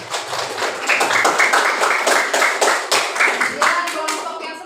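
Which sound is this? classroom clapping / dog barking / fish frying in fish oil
classroom clapping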